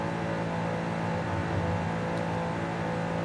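Stock hypercar engine in Forza Horizon 5 holding a steady high-speed whine and drone, constant and fairly loud throughout, with no talking.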